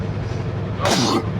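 A single sharp sneeze bursts out over a low, steady rumble of a moving train.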